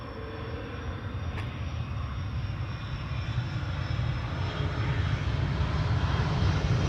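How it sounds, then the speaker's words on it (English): A KLM airliner on flight 682 from Vancouver arrives on the Polderbaan runway 18R at Amsterdam Schiphol, its engines a steady, deep roar that grows slowly louder as it approaches, with no voices. "KLM flight 682 arriving from Vancouver,"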